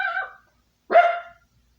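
A dog gives two short separate barks, moderately close, with a brief pause between them and no other sound.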